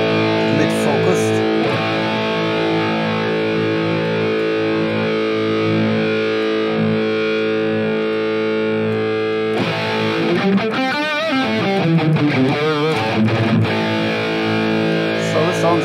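A heavily distorted electric guitar through a Hotone Ampero or NUX MG-30 amp modeler with a mid-focused IR plays sustained chords and then bending, wavering notes, loud and close, with no talking over it.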